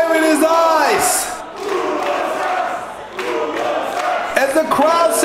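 A wrestling arena crowd roars and chants in loud, swelling waves at a wrestler during an Unlimited Wrestling show, the mass of voices rising, dipping briefly, then surging again throughout.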